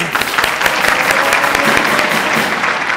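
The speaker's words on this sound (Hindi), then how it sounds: "अरे तालियां तो बजाओ" Studio audience at a Hindi comedy show claps in a dense, steady burst of applause, loud and close, lasting a few seconds with no talk over it.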